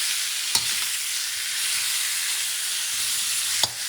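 Vegetables and meat stir-frying in a pan for a Thai dish, with a steady dense sizzle throughout and two sharp clinks of a utensil against the pan.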